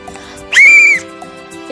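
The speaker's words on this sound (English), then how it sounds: "if I blow the whistle once like this" A single loud, sustained whistle blast from a tour guide at a tourism facility, standing out clearly over a quiet background and lasting about half a second.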